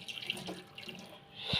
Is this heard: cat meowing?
no